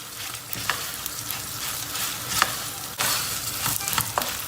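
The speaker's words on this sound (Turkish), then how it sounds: "Salçamızı iyice bir kavuracağız." Tomato paste and vermicelli fry in a pot with a continuous close sizzle, punctuated by repeated spoon scrapes and stirring strokes that swell and fade.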